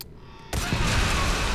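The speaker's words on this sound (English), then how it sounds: "I love explosions" A single loud explosion in Red Faction Armageddon bursts in abruptly after a quiet moment and rolls on as a broad, roaring rumble that holds steady to the end.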